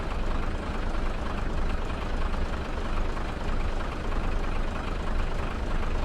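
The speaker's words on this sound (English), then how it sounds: "Giant diesel engine." A Class 47 diesel locomotive's giant engine ticks over at idle, a steady, dense low rumble with an even knocking pulse that holds constant and close throughout.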